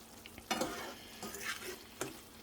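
Bacon and garlic cook in a pan, a quiet frying hiss broken by a few utensil stirs and scrapes, close and fairly faint.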